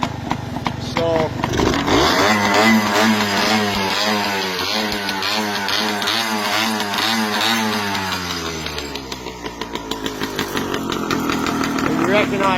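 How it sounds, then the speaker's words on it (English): A home-built cafe racer motorcycle rides laps of a private track looping around a driveway, its engine loud and close, revving up and down in steady rising and falling waves before easing off near the end. "I made it what I wanted it to be. A little cafe racer. Race around."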